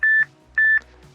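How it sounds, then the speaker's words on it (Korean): A Pretty Little L13 smartwatch gives a text message alert: two short, clear electronic beeps, a brief pause between them, close and alone with no voices. "문자 알림도 잘 오네요."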